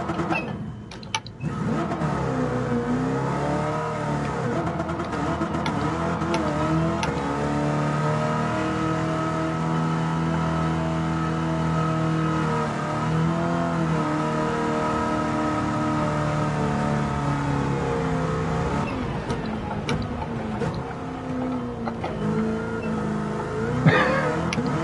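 A rally car in Gran Turismo 7 held at full throttle, its engine droning loud and steady with rising and falling harmonics as revs shift, a brief dip near the start and a sharp knock at the very end.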